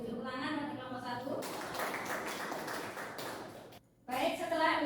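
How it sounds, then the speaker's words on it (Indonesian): A burst of clapping from a group in a classroom fills a few seconds between stretches of a voice talking, then stops abruptly before the talk resumes. "Beri tepuk tangan pada kelompok 1"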